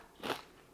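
A crunchy keto nacho chip made from pork rinds and cheese gets a single quick bite, one short crisp crunch heard up close and alone.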